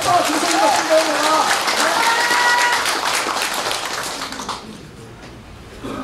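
An audience applauds at an Agent Orange veterans' association anniversary ceremony in Busan, a dense burst of clapping that gradually thins and fades out, with some voices mixed in.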